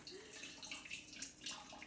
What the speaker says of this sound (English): You can pull your pencils out